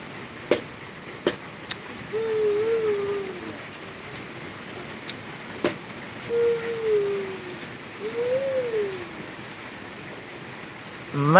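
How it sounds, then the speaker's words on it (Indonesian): Heavy rain falling outside, a steady soft hiss in the background with a few sharp knocks and some bird calls rising over it, fairly faint throughout. "Masih suasana hujan lebat di depan."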